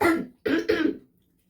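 A person coughs during a pithe eating challenge: one rough cough, a short pause, then two quick close coughs trailing into a throaty breath.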